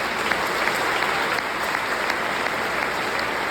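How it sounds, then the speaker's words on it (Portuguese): A church congregation applauds, a dense steady wash of hand claps lasting throughout at moderate distance, with no one speaking over it. "Que coisa linda, dá uma salva de palmas,"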